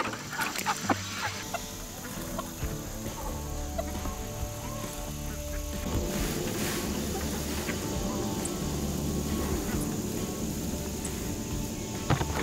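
A farmyard flock of turkeys, chickens and ducks calls in scattered clucks and quacks, fairly faint and somewhat distant, over a steady outdoor background with no talk.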